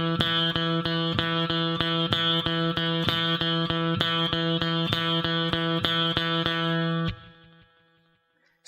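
Distorted electric guitar picks a steady run of eighth-note triplets across two measures, evenly spaced repeated notes with effects, ringing loud and alone before cutting off near the end.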